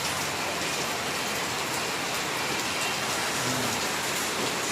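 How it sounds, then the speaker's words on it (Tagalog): Heavy rain pours steadily outdoors on laundry day, a dense, constant hiss of drops drumming on surfaces with no voices. "lakas ng ulan"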